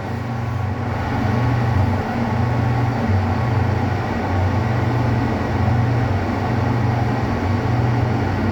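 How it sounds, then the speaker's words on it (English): A loud elevator fan hums steadily and evenly with a low, slightly pulsing rumble, and no voices over it, in a glass-door traction elevator at a train station. "This one has a loud fan."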